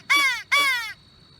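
Two crows in a treetop give two loud, harsh caws in quick succession, each drawn out, then fall silent.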